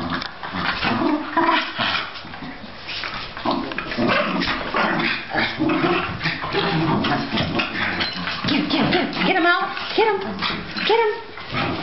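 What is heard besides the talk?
Cairn terriers playing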